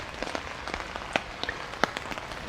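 Rain falls at night on a woodland campsite with a hammock, making a soft steady patter broken by irregular sharper drips and taps nearby, with no talking.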